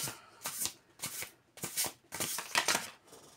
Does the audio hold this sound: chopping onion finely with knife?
no